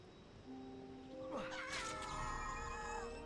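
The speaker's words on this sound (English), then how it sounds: "My cat is going crazy over by this window." A cat meows near a window, a short vocal call rising and falling, moderately close, with game sounds running in the background.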